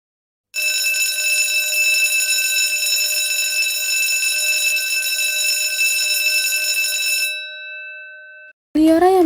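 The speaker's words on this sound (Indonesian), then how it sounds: "Liora yang mendengar bel istirahat berbunyi pun bergegas merapikan barang-barangnya yang berada di meja." A school break bell rings at an Indonesian senior high school, one loud continuous electric ring holding steady for about seven seconds before cutting off, followed by a brief burst of sound.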